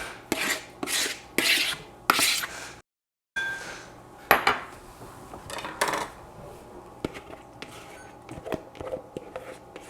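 Chopped tabouli salad ingredients tumble into a bowl in several bursts of rattling and scraping, with utensil clinks against the dish and a brief gap partway through, close and fairly quiet.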